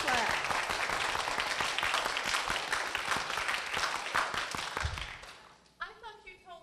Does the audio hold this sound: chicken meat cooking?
no